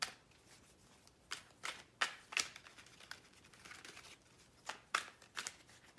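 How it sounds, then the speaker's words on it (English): Thick cardstock tarot cards being shuffled by hand, a series of crisp riffling bursts and soft slaps in irregular rhythm, close and fairly quiet, with no voices. "This is a very, very thick cardstock, very hard to shuffle."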